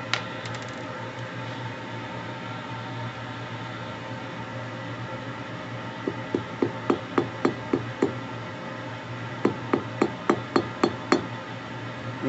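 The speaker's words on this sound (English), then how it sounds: "basically, do some hammering, get this flat, ready for the mill." A mokume-gane silver billet is hammered flat on an anvil with two bursts of sharp metallic strikes, about six blows in quick rhythm and then five more, ringing close over a steady low hum.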